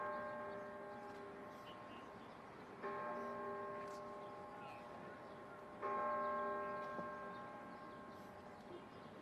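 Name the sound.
church bell tolling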